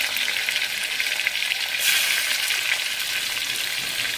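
Tomatoes fry with curry leaves in a pan, giving a continuous close hiss that swells briefly midway, as if from stirring. No voices.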